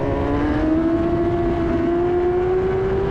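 A race car at Brands Hatch in the rain, taking the final corner, its engine holding a steady, slowly climbing drone under a broad hiss of spray and track noise, heard from on board.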